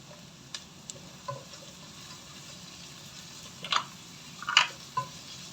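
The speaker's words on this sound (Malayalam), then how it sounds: "നന്നായിട്ട് വഴറ്റി കൊടുക്കാം" Potatoes and green peas for curry sautéed in a pan, a spatula scraping and stirring in a few short bursts over a faint steady sizzle, close and moderately quiet, with no talking.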